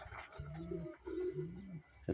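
Native Bengali domestic pigeons coo in repeated low, rolling calls, two long coos close by with brief pauses, followed by a short sharp noise at the end.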